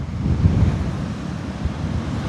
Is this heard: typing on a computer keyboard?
no